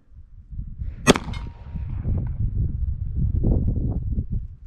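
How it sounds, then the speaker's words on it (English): A single sharp report from an HK SFP9L pistol fired at a paper target about 10 yards away, followed by rustling and handling noise. "Okay, we're gonna shoot center mass."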